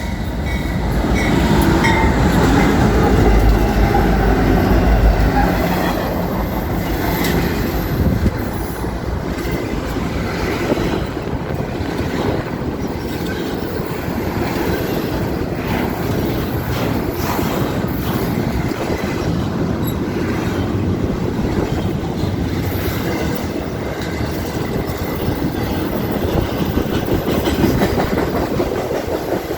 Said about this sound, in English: here we have a Burlington Northern Santa Fe freight train.